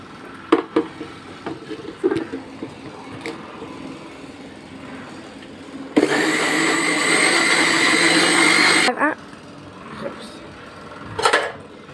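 An electric blender whirs loudly for about three seconds while mixing chocolate cake batter, a harsh steady roar that starts and stops abruptly, with kitchen clatter and someone talking before and after.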